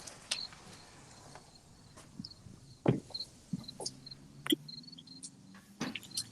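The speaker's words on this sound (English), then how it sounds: "I hear crickets in the background." Crickets chirp faintly in the background through an open microphone during a school district board meeting, as thin intermittent high trills among occasional soft knocks and clicks, with no talking.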